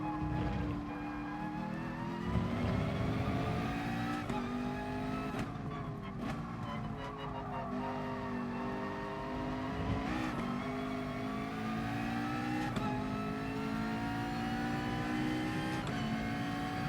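Race cars in GT Sport, Nissan GTR among them, roar with continuous engine drone and shifting revs. Gear changes and brief skids break up a steady, moderately quiet game soundtrack.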